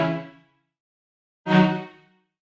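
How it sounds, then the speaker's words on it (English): Dry Omnisphere string patch with no effects for a dark orchestral beat: two sustained, rich string notes, each swelling in and fading over about half a second, separated by a silent gap, no talk. "I got those strings from Omnisphere"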